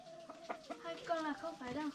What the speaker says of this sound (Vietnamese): Thế nhiều gà to đấy.